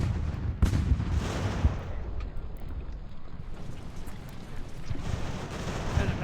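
Musket fire in Ultimate General: American Revolution, a loud crack followed by a cluster of dull, distant volleys rolling under a steady windy battlefield rumble.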